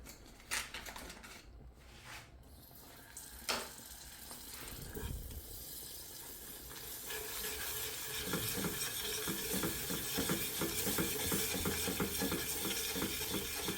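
Butter stirred into melted sugar caramel, opening with a few spoon clinks and a soft pan knock, then a rising frothy sizzle with quick rhythmic stirring scrapes, close and steady without talk.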